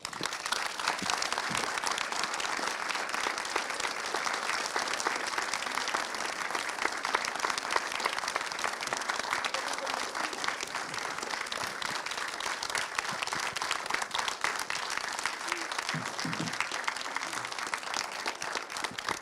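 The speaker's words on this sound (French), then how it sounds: "un tonnerre d'applaudissements" A large audience gives a long, steady round of applause at a live talk event honoring actress Annie Duperey. The dense clapping stays full and unbroken throughout.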